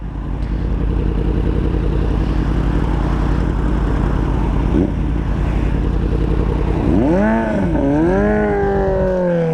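A motorcycle engine runs at a loud, steady idle close by, then stalls and cuts out as a rider fumbles a borrowed bike; tonal swooping sounds rise over the engine near the end.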